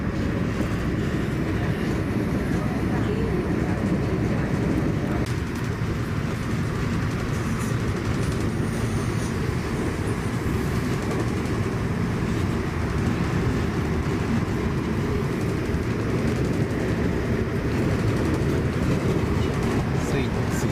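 A steady, loud rumble of a train running along the line in Greece, heard from inside, constant roar of wheels and carriage noise with no breaks throughout.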